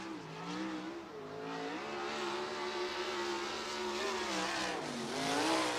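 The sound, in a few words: USAC sprint car lapping Bridgeport Speedway into turns 3 and 4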